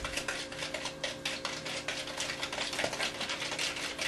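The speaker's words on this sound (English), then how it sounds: "And you're just going to mix that and beat it" Cream for scones whisked by hand in a bowl, a steady scraping and clinking rhythm of utensil against the bowl, fairly quiet and continuous with no talking.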